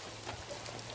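Hailstones pelt down during a thunderstorm in Montana, a dense, steady patter of icy impacts that fills the whole second with no voices.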